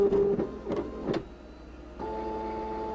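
A 1990s home computer printer powering up, giving a few short mechanical clunks and whirs, then settling into a steady low electrical hum, quiet and close.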